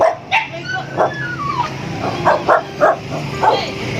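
A dog close by gives a string of short yips and barks mixed with whimpering, roughly evenly spaced over a few seconds, loud and clear.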